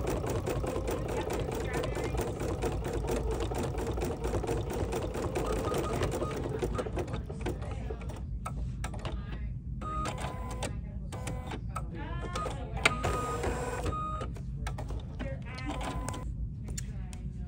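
An embroidery machine stitches appliqué marshmallows, giving a dense, continuous mechanical whir with a tonal whine that holds steady throughout and eases slightly after the first few seconds.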